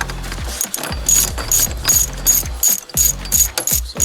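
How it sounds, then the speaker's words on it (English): A quarter-inch ratchet wrench turns the center bolt of a steering wheel puller on a car's steering column, producing rapid repeated clicking strokes in close, loud bursts of ratcheting. "bolt in the middle that I'm screwing in right there is going to push in on the center of that steering column"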